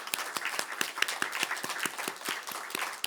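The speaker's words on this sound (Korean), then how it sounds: "앞뒤 원하는 대로 보시고 박수로 격려해 주시기 바랍니다" Church congregation applauding at a Sunday service, a modest group clapping in an uneven, fairly sparse patter of distinct hand claps for a few seconds.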